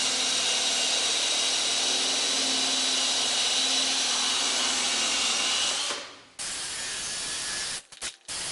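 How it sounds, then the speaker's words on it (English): A polisher buffs an SSR mesh car wheel with a constant close, hissing whir that cuts off abruptly, starts again, then sputters through a few brief stops near the end. "I'm going to do 2-3 passes, maybe 4 with the polisher to get it real shiny"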